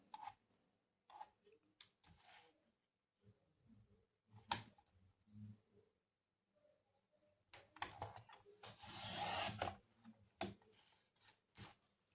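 Scissors snip through paper being trimmed for a junk journal, a quiet series of close, sparse clicks and cuts, followed by a longer rustling burst as the paper is handled.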